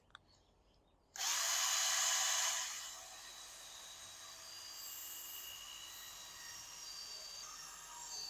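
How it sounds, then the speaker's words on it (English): A drill spins a polishing pad against a Tacoma headlight, starting abruptly with a loud high whine that eases after a couple of seconds into a steady, continuous whir. "So I'm just going to place that on my drill."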